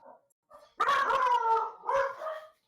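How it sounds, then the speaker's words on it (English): A dog gives a long, howling bark followed by a shorter yelping bark, loud and close, with brief faint sounds before it. "I've never heard that bark."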